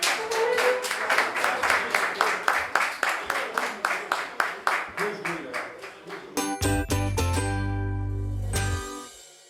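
Applause at the end of a quiz match, a small group clapping in a regular rhythm of sharp, distinct claps that fades as a short musical jingle rings out and dies away.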